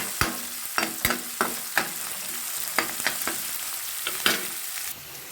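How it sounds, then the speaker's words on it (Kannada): Onions roasting in a pan over medium heat give a steady low sizzle, broken by repeated sharp clinks and scrapes of a stirring spoon against the pan at irregular intervals. "ಇದನ್ನು ಈರುಳ್ಳಿ ಬಣ್ಣ ಒಮ್ಮಣ್ಣ ಬರೋವರೆಗೂ ಇದನ್ನು ಚೆನ್ನಾಗಿ ರೋಸ್ಟ್ ಮಾಡಿ"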